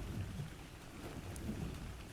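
Rain in the ARK Survival Evolved game, a faint steady wash of falling rain with a low rumbling undertone, continuous and even throughout.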